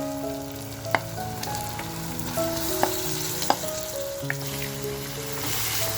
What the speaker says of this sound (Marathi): आता जे मटण ठेवलं आहे ना ते मटण त्याच्यामध्ये फ्राय करून घेते